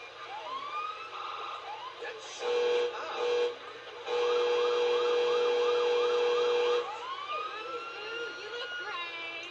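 A Montreal fire truck siren in the video game GTA 5 wails and yelps in rapid cycling tones, switching patterns and pausing briefly, while someone talks over it.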